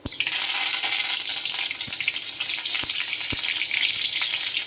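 Curry leaves dropped into hot oil with popped mustard seeds burst into a loud, sudden sizzle that holds steady and close, with a few sharp crackles and taps of a ladle.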